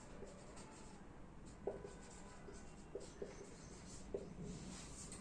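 Pen strokes scratch softly across paper while a math problem is written out by hand, very faint and close, with a few slightly louder taps marking separate marks amid low background hiss.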